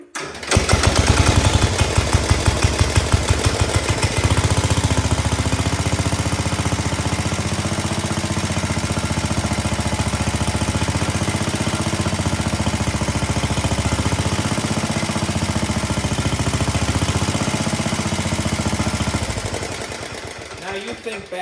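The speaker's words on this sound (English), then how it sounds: "Love the sound of these cooler 7 horsepower motors." Seven-horsepower engine on an early-1960s Cub Cadet 72 garden tractor fires up and settles into a steady, loud idle close by, running evenly for about twenty seconds before shutting off.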